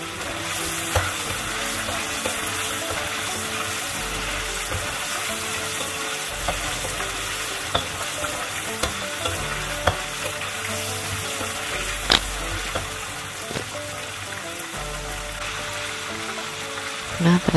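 Chicken frying in a pan for Aceh-style ayam tangkap, a continuous close sizzle with frequent stirring scrapes and occasional sharp clinks of a utensil against the pan.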